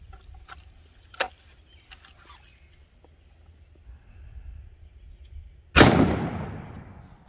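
A shotgun with a full choke fires birdshot in one loud, sharp boom with a decaying echo. Several faint clicks and handling noises come before the shot.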